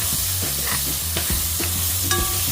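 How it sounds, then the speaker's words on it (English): Onion frying in a steel skillet: a steady, close sizzle with the scrape and clink of stirring over it, no talking. "Alright, so the onion is slowly cooking there."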